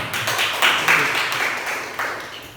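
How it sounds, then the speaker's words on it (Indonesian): A classroom of students applauds a classmate with a dense patter of hand claps that swells in a few waves and holds steady throughout. "berikan tepuk tangan"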